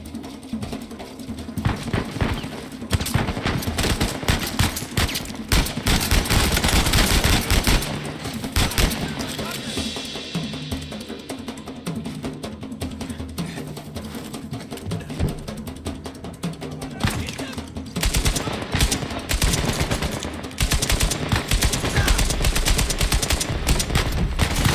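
Player's gun firing in Uncharted 4: A Thief's End, loud rapid bursts of automatic fire repeating throughout, with brief pauses and speech between volleys.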